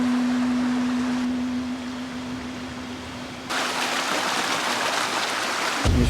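Water in Cajon Creek rushes in a steady broadband wash, softer at first and then louder and fuller after a few seconds, with a constant low hum running beneath and no talk.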